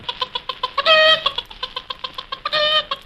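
A series of short, rhythmic clucks from a chicken, with two longer, louder squawking calls breaking in between.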